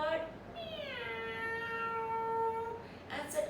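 A voice imitates a cat's meow in a single long, drawn-out tone that slides down and trails off, told as part of a children's story, with a brief breath or word at the end.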